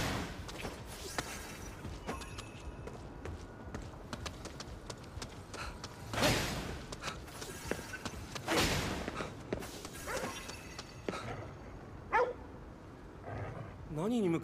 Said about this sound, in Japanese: 何に向かって吠えてるんだ。